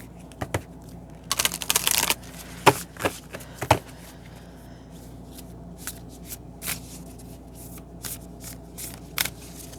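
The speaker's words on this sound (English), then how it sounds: "I'm going to shuffle one more time." Playing cards shuffled by hand: a burst of riffling flutter followed by scattered sharp snaps and taps as the deck is squared, close and moderately loud, with no speech.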